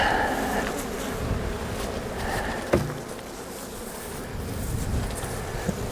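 Honey bees hum in a steady, close buzzing drone around an open hive during spring colony work, with occasional louder passes and light handling noise.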